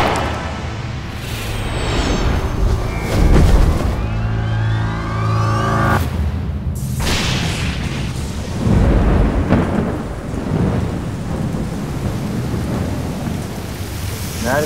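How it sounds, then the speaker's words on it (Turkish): A heavy thunderstorm pours steady rain, with deep rumbling thunder rolling and swelling in several loud waves over the continuous downpour. "Nereden çıktı bu yağmur?"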